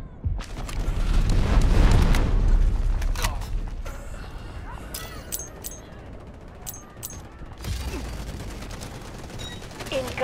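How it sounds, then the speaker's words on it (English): Artillery barrage in the Delta Force video game: a loud rumbling wave of distant booms and gunfire for a couple of seconds, then fading into scattered shots, creaks and clicks before another burst of blasts near the end. "Incoming artillery."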